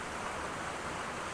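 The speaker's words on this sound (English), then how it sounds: "the waterfall in front of you" Steady, broadband rushing of a waterfall on a river in the North Pennines, a constant close roar of falling water with no voices.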